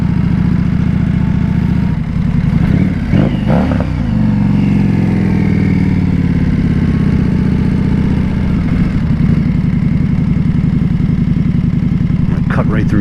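A 2025 Indian Scout Bobber motorcycle engine running loud and close, with a steady low rumble, a few brief throttle blips early on, then settling into a continuous idle-like drone.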